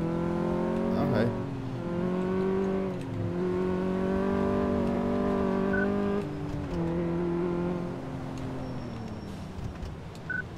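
A car engine in Car Mechanic Simulator 2014 revs steadily through a test drive, its tone rising and falling in long harmonic sweeps, loud and continuous, with a brief shift near the middle.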